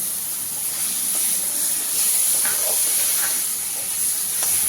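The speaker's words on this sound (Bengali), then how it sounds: "এবার আমি এর মধ্যে টমেটো কুচি দিয়ে দেব।" Chopped tomatoes go into a spice paste frying in a pan for a home-style rui fish kalia, raising a steady, loud, close sizzle with a bright hiss that swells slightly, and no talk.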